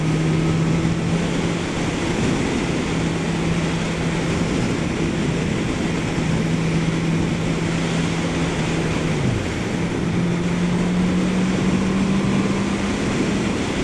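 A 2022 Honda CB650R engine drones at a steady pitch while riding at speed in fourth gear, about 6,000 RPM, under heavy wind rush, with one brief dip in pitch partway through.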